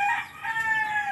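Backyard farm chickens call nearby in a short burst, a drawn-out crowing tone with clucking around it.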